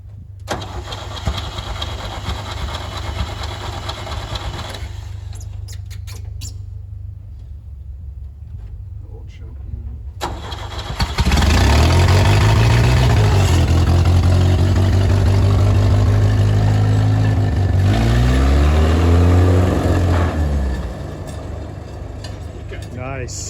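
A restored rail speeder engine with no muffler cranks over, catches and runs loud and close for several seconds, its throbbing note rising and falling before it drops away, with mechanical noise before the start.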